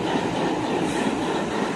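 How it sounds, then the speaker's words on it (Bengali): A diesel locomotive rolls up to a rail bridge ahead of a load test, a loud continuous rumble of engine and wheels on track, close by and steady throughout. "এই মুহূর্তে দেখতে পাচ্ছেন ডিজেল লোকোমোটিভ চলে এসছে"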